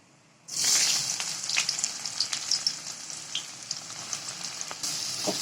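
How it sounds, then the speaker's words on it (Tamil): Large onions hit hot oil with already-popped cumin, setting off a sudden loud, close sizzle that keeps hissing and crackling steadily with a stir near the end. "ஜீரகம் நல்லா பொரிஞ்சோடனே பெரிய வெங்காயத்தையும் சேர்த்துக்கோங்க"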